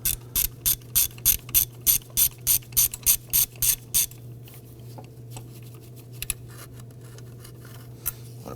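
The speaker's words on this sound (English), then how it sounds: "I'm going to use my shallow 13 and my swivel head ratchet to go ahead and loosen and remove this bolt." A swivel-head ratchet with a shallow 13mm socket loosens a bolt near the valve cover of a 2008-2011 Ford Focus: about four seconds of fast, evenly spaced clicks, close and crisp, then near quiet over a low steady hum.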